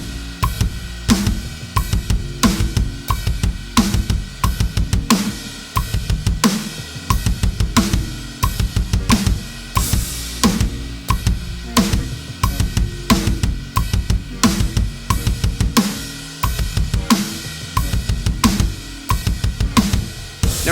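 A drum kit plays a four-measure kick drum foot speed exercise ending in six-note single-kick bursts, dense continuous rhythmic hits with cymbal wash, close and steady with no talking.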